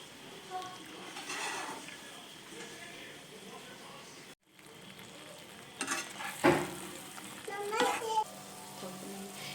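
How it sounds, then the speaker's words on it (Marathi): Raw mango simmers in jaggery over a low gas flame, a soft steady bubbling with occasional stirring scrapes, and children's voices sound faintly in the background. "गॅसची फ्लेम एकदम स्लो ठेवते आणि ह्याच्यातच जेवढ्या गुळामध्येच ते शिजवायचे आपल्याला।"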